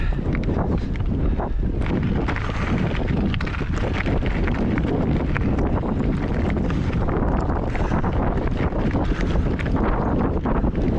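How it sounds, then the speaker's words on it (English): Strong wind on a mountain ridge near Las Vegas roars and buffets continuously, with loud gusty rumbling against the microphone. "Pretty windy up here."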